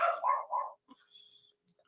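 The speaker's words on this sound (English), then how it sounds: "There's that damn dog again, bro. There's the damn dog." A dog barks in a quick run of about three loud, close barks, then quieter yips and faint noises follow.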